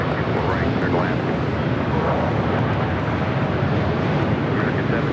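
Airliner arriving from Seoul to land on runway 24 right at Los Angeles International Airport, a steady loud broadband engine roar with wind noise that holds constant throughout, heard outdoors without talking.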